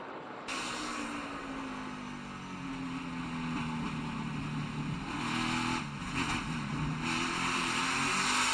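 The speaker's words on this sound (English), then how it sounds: "listen to the throttle of the 12 as the 3 is trying to get by him" A NASCAR Xfinity race car's engine droning and rising in pitch as it holds throttle during a pass at the 2021 Xfinity 500, with steady loud engine tones and brief dips suggesting a lift, other cars' engine noise mixed in.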